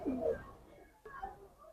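Pigeons coo softly and close by, with a low purring call at the start and quieter coos afterwards, all against a faint background.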